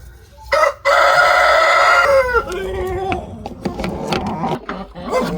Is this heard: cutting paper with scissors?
no